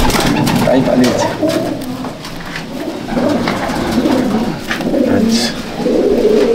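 Madrasi pigeons, an old breed kept for sale in Bauria, Howrah, coo repeatedly in low, throaty phrases, close and fairly loud over a busy background.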